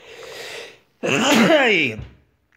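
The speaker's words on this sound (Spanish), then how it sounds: "perdonad el estornudo" A single close, loud human sneeze: a short breathy intake, a brief pause, then the sharp explosive burst trailing off into silence.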